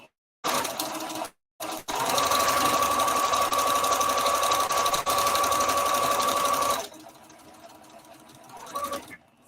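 A sewing machine runs a steady, loud stitching whir along a scuba skater skirt seam after a couple of short starts, then stops as a voice speaks briefly.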